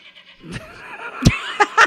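A person imitates a goat's bleat with a few short, wavering cries at close range, the strongest bursts near the end, with no talking.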